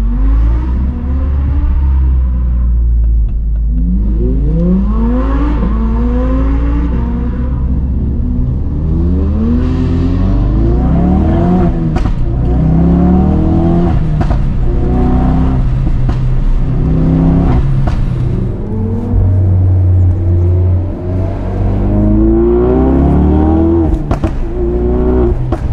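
A Mercedes-AMG GT R Pro engine pulls hard and loud on an open road in fine weather, climbing through repeated upshifts. Each rising howl drops at the shift before climbing again, continuously and close up.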